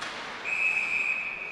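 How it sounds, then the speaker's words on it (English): A referee's whistle stops play during a women's university ice hockey game against McGill, one sustained shrill blast heard faintly over arena ambience. "We have another whistle."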